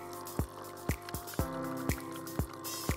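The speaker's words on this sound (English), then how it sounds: "Mini-Me will start rinsing for another 30 seconds." NESCAFÉ Dolce Gusto Mini Me coffee machine rinsing hot water, heard as a steady pump hum with a regular series of about six sharp dripping plops falling into a cup, close and clear.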